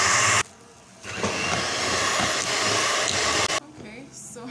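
An electric mixer whips cream made from just two ingredients into stiff peaks, giving a steady close whirring drone for about two and a half seconds between quieter moments.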